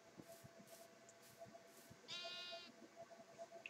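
A pink sheep in the Minecraft video game gives a single short, wavering bleat midway through, heard over quiet background game noise and faint footsteps.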